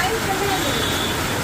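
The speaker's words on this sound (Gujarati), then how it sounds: "જોરદાર ચાલુ થઈ ગયો છે વરસાદ." Heavy rain pours steadily outside a hospital in the Manjalpur area, a dense, even hiss of downpour that fills the whole short stretch without a break.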